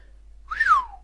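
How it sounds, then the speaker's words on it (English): A single person whistles once in surprise, a short clear tone that rises then slides downward, alone in a quiet room. "he repeated with a whistle"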